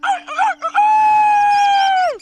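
A cartoon rooster lets out a loud, drawn-out cock-a-doodle-doo crow, opening with a few choppy rising notes before one long sustained call that drops off sharply at the end, heard alone.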